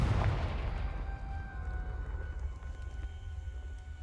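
A single booming blast from the Confringo fire spell in the Hogwarts Legacy video game, loud at onset with a low rumble that decays into a sustained tonal ring over four seconds.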